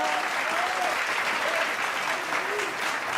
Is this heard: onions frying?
no